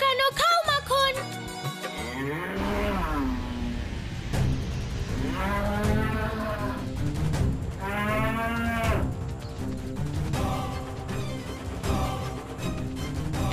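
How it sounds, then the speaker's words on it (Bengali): A calf mooing repeatedly in long, drawn-out bellowing calls, close and prominent, with a few drawn tones overlapping amid background rustle. "কানাই বাছুর। বাছুর?"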